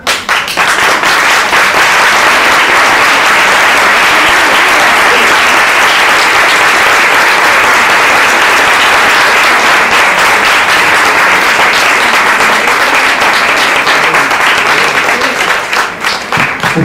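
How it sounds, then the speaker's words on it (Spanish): A large audience applauds steadily after a lecture on schooling at an academy, a dense, loud, sustained wash of clapping that holds nearly unbroken for about seventeen seconds. "aplaudirme después de eso con lo que terminé"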